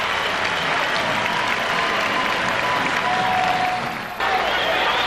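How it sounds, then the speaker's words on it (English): Detroit Pistons fans at the Palace applaud during a 1991 playoff game against the Chicago Bulls, a steady roar of arena clapping and crowd noise that holds throughout, with only a brief dip near the end. "the fans of the Detroit Pistons here at the Palace as they continue to applaud for the Pistons"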